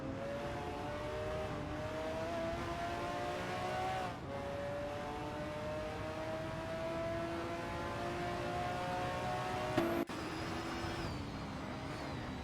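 Retro supercars race in a simulator game, with a steady engine drone holding pitch, small shifts as the cars change gears, and a sharp click near the end.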